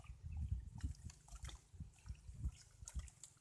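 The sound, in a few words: jaggery syrup being poured into the mixture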